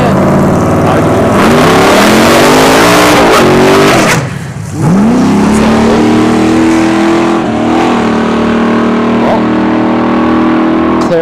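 Loud Volkswagen GLI launching down a drag strip, engine revving hard through rising gear sweeps, a brief pause at a shift, then pulling strongly and fading slightly toward the end, with faint talk underneath.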